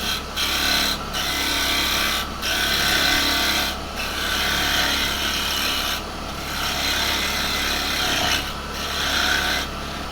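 A wooden blank spins on a lathe while a tenon is turned, giving a loud, continuous rasping scrape with brief breaks as the tool lifts off the wood, close and unaccompanied by speech.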